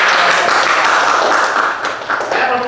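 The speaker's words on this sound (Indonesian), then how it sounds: "Bisa beri tepuk tangan untuk semua" Classroom students clap together, a brief, loud, dense patter of hands that thins slightly toward the end, with no talking over it.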